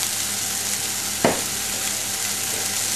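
Rump steak sears on a bar grill, cooked rare, giving a steady, close, broadband sizzle throughout with a single brief knock partway through and no talking.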